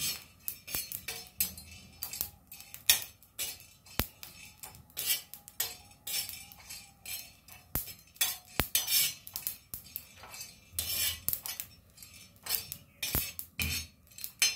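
A spatula scrapes and clinks steadily against a dry metal pan as whole spices are dry-roasted and stirred, with rapid rhythmic metallic taps and scrapes close up and no talk.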